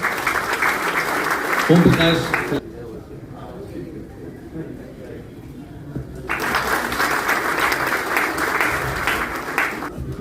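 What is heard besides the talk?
applause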